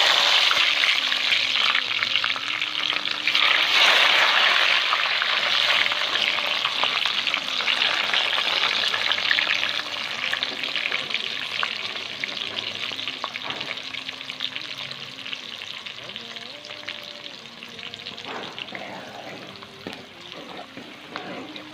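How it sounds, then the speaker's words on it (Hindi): Onions sizzling loudly in hot oil in a home kitchen while a fish biryani is cooked, a dense continuous frying hiss with occasional stirring, close and steady throughout. "ये ऑयल गर्म हो चुका है और अभी हम इसमें ये प्याज डालेंगे"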